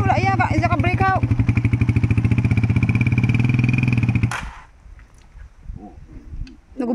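A broken-down motorcycle engine runs with a steady low, buzzing throb for about four seconds, then cuts out. Quieter background noise and distant voices follow.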